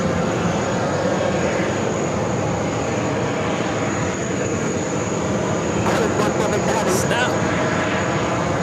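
A Boeing 767-400ER airliner at JFK gives a steady, loud broadband engine roar that holds throughout, with a few sharp clicks and voices near the end.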